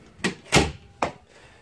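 A house door shifts and bumps in three quick knocks and thuds at close range in a quiet room, with no talking.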